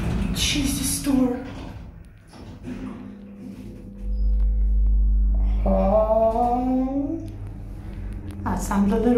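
An old, generic elevator in an apartment building in Bytom, Poland, running with a low steady drone and rusty grinding and screeching, as people talk over it.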